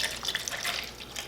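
Distilled water poured into a bubbler container, a short bright trickling and splashing stream at close range, fairly quiet, with no voices.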